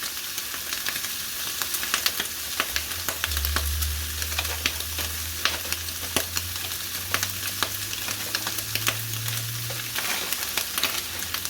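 Frozen peas hitting a hot frying pan, a steady bright sizzle and crackle with scattered pops and a low background hum, no talking.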